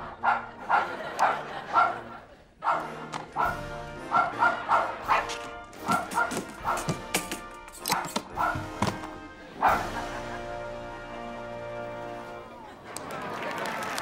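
Several dogs bark and yip in bursts at a mock dog show, the barks overlapping in a sung-like chorus, with a louder, busier passage near the end.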